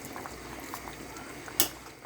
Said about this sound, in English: So as you can see in the corner where it's boiling,